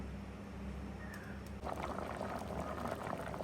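Water bubbling and gurgling in a pot of boiling rasavalli yam, a low steady simmer that grows into livelier boiling partway through.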